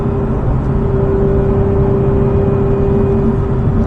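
A 2024 Lotus Emira V6 drives along the road with a steady, loud engine drone and a sustained tonal hum over broad road rumble, unbroken throughout with no talking.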